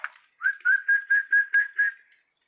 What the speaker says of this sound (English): Like my whistling?